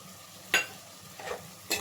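Spatula strokes stir vangi bath spice powder into a frying mixture in a pan, giving three short, distinct scraping swishes over a faint sizzle.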